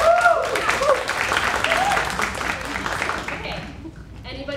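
A theater audience at a new play festival bursts into sustained applause, a dense wash of clapping with a few scattered cheering voices that fades toward the end.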